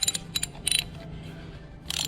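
A ratchet wrench loosens an old spark plug on a 2010 Mazda 6 Sport, giving short bursts of sharp metallic clicking at close range, separated by brief quiet gaps.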